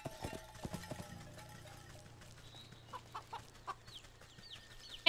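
Chicken clucks from a farming video game, several short bursts spread across the clip alongside hoof-like clip-clop steps, a low steady hum and faint bird chirps, with no talk.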